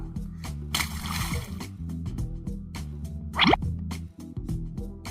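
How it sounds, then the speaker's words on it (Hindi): A cartoon crow drops a pebble into a clay water pot, giving a single bright plop over steady background music. "वे एक एक करके कंकर को मटके में डालने लगा।"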